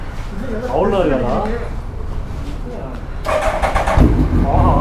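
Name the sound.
Interceptor 650 motorcycle engine starting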